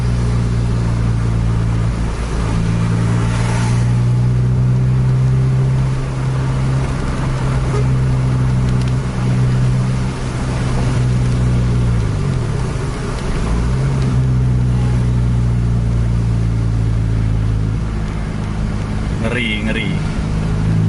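Double-decker bus engine roaring steadily as the bus accelerates along a straight road in heavy traffic, with a sustained low drone and shifting pitch. Someone talks over it throughout.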